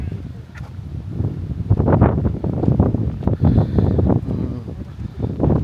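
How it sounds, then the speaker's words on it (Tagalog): Strong gusting wind buffets an outdoor microphone with a steady, heavy low rumble that surges and fades, loud and close, with faint voices partly buried underneath. "Mahangin eh, oh."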